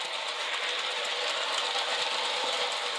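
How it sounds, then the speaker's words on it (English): A 1937-38 Märklin HR gauge 1 live steam locomotive runs on residual steam with the burners off, giving a steady, dense hiss and rapid fine chuffing close by with no pauses. "here she is, just running on residual steam."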